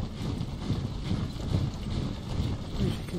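Horse hooves clop steadily in Napoleon: Total War, a continuous muffled trotting rhythm of many hoofbeats at moderate loudness, with faint background game noise.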